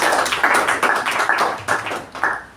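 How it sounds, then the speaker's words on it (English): A room of people at a club meeting gives a round of applause: dense, steady clapping from many hands, close and fairly loud for its full length, with no talk over it. "let's give him a thunderous round of applause."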